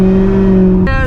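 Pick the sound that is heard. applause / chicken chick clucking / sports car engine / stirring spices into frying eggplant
sports car engine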